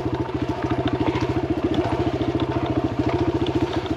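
A Kawasaki KLX 140R dirt bike rides a trail, its small single-cylinder engine chugging in a fast, steady, close pulse with light clatter throughout.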